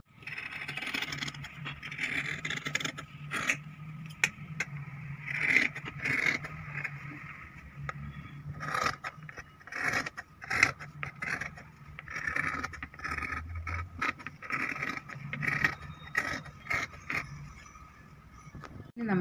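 Scissors snip through fabric while a ladies' shirt is cut, giving a long run of repeated scraping cuts with irregular rhythm, close and fairly quiet, with slight handling noise throughout.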